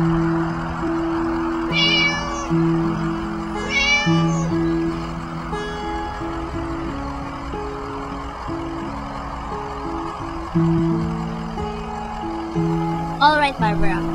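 A cat passing behind a person on a street gives several short, high meows spread across the stretch, heard over a low, steady rumble of a stopped truck's engine and traffic, with voices talking.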